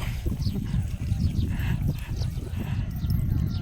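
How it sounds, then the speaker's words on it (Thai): Horse hooves clip-clop steadily and close at a rural home yard, a continuous walking rhythm under a loud noisy background with voices talking over it. "เป็นม้ามึนไปเลยครับ"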